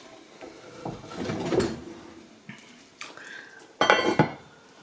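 A metal lid clatters onto a pot of Hungarian beef stew on the stove, with a few clanks and scrapes of cookware, then a louder rattling clang near the end.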